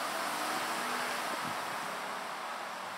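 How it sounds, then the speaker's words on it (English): Road traffic rushes past steadily as broadband noise on a walk outdoors, with wind buffeting the microphone and no voices. "There's a lot of traffic over here, so the sound is going to be pretty bad."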